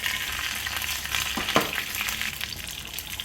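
Mustard seeds, fenugreek, a dry red chili and curry leaves crackle and sizzle in hot coconut oil, a steady close frying hiss with a sharper spitting pop midway, no voices.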